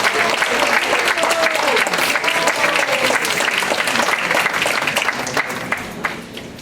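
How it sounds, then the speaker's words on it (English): A roomful of guests applauds at a fifth-anniversary celebration for a residence, a loud, continuous clapping roar with faint voices and cheers mixed in, tapering a little near the end. "So let's give her a big round of applause."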